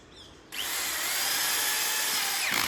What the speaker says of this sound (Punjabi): ਇੱਥੇ ਲੱਗੀ ਜਾਂਦਾ ਪਹਿਲਾ ਪੇਚ